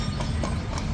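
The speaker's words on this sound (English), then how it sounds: "The old horse and buggy carriage." Hooves of a horse-drawn carriage clip-clopping at an even pace in the old town of Seville, Spain, heard briefly over dense street background noise.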